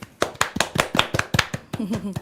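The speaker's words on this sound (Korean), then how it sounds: "박수 보내고 싶습니다. 박수." Sparse, slow claps from a small group at a Korean political livestream, about ten sharp separate hits at a steady rhythm, close and fairly loud, with a voice speaking briefly near the end.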